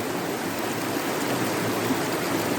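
Steady broadband rush of a waterfall pouring down, loud and close, a continuous even wash of water with no voices.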